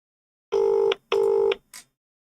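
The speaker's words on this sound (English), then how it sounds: "Okay, it's ringing." An outgoing phone call ringing on the line: two long, steady electronic ring tones in quick succession, loud and close, followed by a brief fainter beep.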